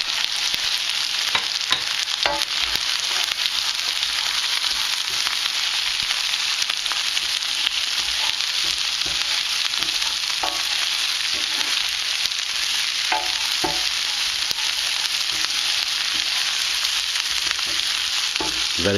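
Salted peanuts fry in a very hot pan of curry, giving a loud, steady, close sizzle with dense crackling and occasional sharper pops throughout, no talking.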